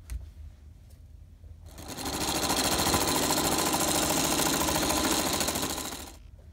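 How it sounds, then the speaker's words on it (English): A sewing machine stitches fabric steadily at high speed for several seconds, a fast rattling stitch close by, starting after a short pause and stopping abruptly. "go back to my sewing machine and sew all the way around the top edge"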